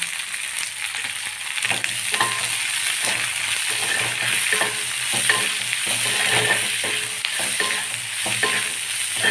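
Ingredients sauté in a pan for drumstick-leaf ragi roti, with a steady close sizzle and repeated scraping stir strokes throughout, no voices.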